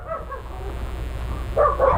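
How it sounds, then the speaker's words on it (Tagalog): Several dogs bark and yip at a house during a delivery drop-off, with soft whimpering early on and two louder, close bursts of barking near the end. "Dami niyong aso"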